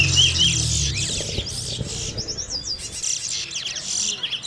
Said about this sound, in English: Owners urge on their birds to keep singing, while the scorers keep tally as the race unfolds.